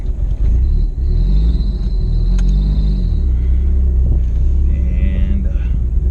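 A Talon TSi AWD car engine starts and rumbles steadily at a low idle, loud and close, with a brief higher whine partway through and a faint voice at times.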